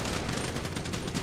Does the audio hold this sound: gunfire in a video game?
yes